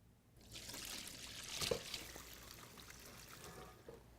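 Cooked spaghetti is drained and water pours out in a soft, close trickle and splash that builds after a short silence, then tapers off gradually.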